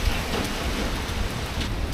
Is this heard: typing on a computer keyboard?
no